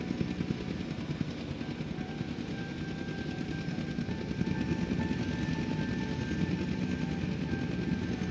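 A helicopter airlifts a dinosaur in Jurassic World Evolution 2, its rotor producing a continuous, steady whirring drone with a low thudding undertone that holds even throughout.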